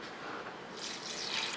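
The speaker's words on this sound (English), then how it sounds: "You're going to cover this with 4 cups of water" Four cups of water pour steadily into a pot of split peas with fine leaf thyme and grated garlic for Trinidad corn soup, a continuous splashing rush with no talking.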